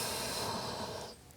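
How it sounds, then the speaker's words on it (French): Deep, slow belly breathing during a pranayama exercise: a single long, airy breath close to the microphone that fades near the end, with no talking. "vous allez respirer tranquillement, respirer avec le ventre, le pranayama, c'est-à-dire qu'on inspire en gonflant le ventre"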